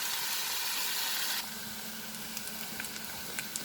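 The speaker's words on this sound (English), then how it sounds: "So we'll saute the onion." Onion sautéing in a pan for soya keema hisses with a loud, broad sizzle that drops to a softer fry after about a second and a half, dotted with small pops and no voices.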